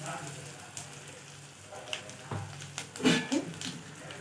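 Dried red chilli halves and asafoetida crackle and sizzle in hot oil for a rasam tempering, with a steady soft hiss and a few sharper pops toward the end.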